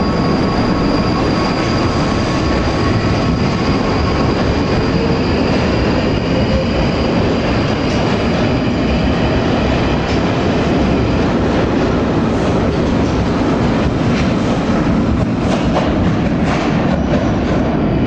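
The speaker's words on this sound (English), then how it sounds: "That was Lewis's train gone." A train pulling out of a station on a line toward London, a continuous loud rumble of wheels and carriages with rail clatter and faint squeals, steady throughout with no talk.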